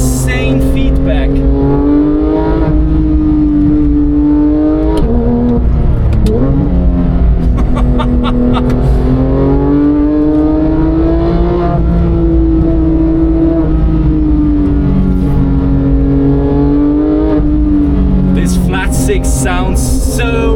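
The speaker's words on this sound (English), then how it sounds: "This car is so much fun." Porsche 911 GT3 engine revving hard while driving, a loud, close, high-pitched wail that climbs and dips repeatedly through gear changes over about twenty seconds.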